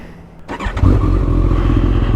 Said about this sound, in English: give it a rev, make sure the revs are okay